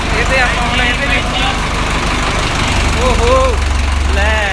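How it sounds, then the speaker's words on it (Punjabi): A tractor engine rumbles steadily at low pitch as it is driven out, running close by the whole time while several people talk loudly over it. "ਆਹ ਟਰੈਕਟਰ ਬਾਹਰ ਕੱਢਣ ਲੱਗ ਗਏ ਤੇ ਫੋਟੋਆਂ ਖਿੱਚ ਰਹੇ ਆ"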